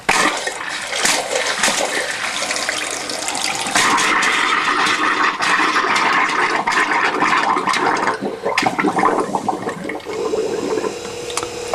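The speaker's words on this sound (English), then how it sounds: "there will be that spit of air coming out after the water, as you can see" Air and water sputter and spit from a static caravan's hot tap during a drain down, a loud continuous gushing hiss broken by irregular bursts and splutters close to the microphone.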